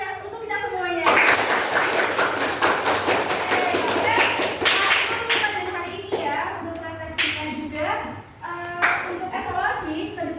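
A class of seventh-grade students performs a rhythmic 'tepuk fokus' clapping chant, sharp patterned claps in bursts with children's voices chanting and talking between them.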